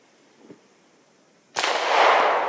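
A single sharp, loud pistol report from a Beretta APX Centurion firing 9mm Hornady 115gr XTP rounds in a barrel-length test, preceded by a faint click in an otherwise quiet setting.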